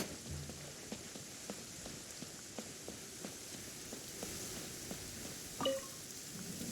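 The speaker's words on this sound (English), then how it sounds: "If this rain keeps up, my fur will be dripping wet." Steady rain patters on surfaces in a video game, a soft continuous hiss with scattered drip-like ticks and a brief chime near the end.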